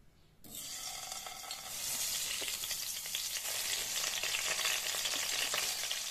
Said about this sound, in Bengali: এর মধ্যে আমি আলুগুলো ভেজে নেব।